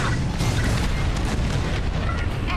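Bombs dropping from a starfighter during a raid in Star Wars: Squadrons set off a continuous deep, rumbling boom, dense low-end roar with scattered bursts throughout, loud and close with no clear gaps.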